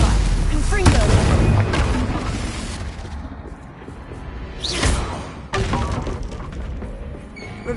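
Stupefy and Confringo spells cast in Hogwarts Legacy: sharp magical blasts with crackling, shattering bursts and whooshes hit repeatedly and loudly over a busy combat background.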